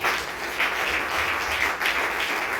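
A church congregation at a Sunday sermon applauds in steady, continuous clapping that fills the space, rising and dipping slightly as hands keep striking with no pause.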